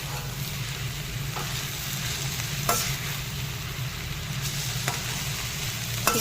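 Amaranth and fenugreek leaves stirred and fried in a pan with salt and turmeric, giving a steady close sizzle with occasional scraping strokes of the spatula against the pan.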